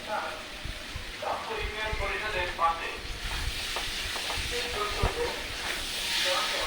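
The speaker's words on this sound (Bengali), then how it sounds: "এখানে আমি ভালো করে কষে নিচ্ছি" Papaya sautés in a pan with a steady sizzling hiss, broken by scraping stirs of a spatula at close range; the sizzle runs throughout at moderate level.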